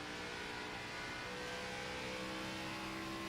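Race car engine in a racing game, a lap around Miami with the 43 car: a steady, loud, high-pitched drone of held throttle that runs unbroken from start to finish.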